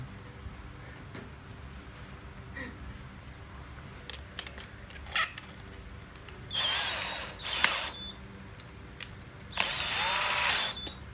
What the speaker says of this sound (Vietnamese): mình đem mũi khoan gỗ khoan cho bê tông